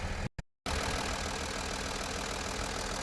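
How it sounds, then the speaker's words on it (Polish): An Audi A8's 3-litre diesel engine idles steadily with a low, slightly knocking rumble, heard close after a brief dropout at the start. "3-litrowy diesel"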